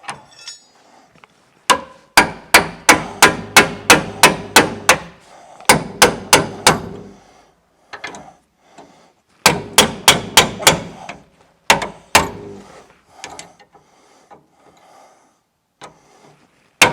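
A hammer strikes a bolt on a Toyota Hilux in rapid clusters of loud, sharp metallic blows, each burst a quick series of hits, with pauses between bursts and no talking.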